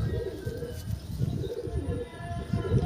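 Pigeons cooing in a loft, a male among them, with repeated low, rolling coos pulsing close and steady over a faint background hum.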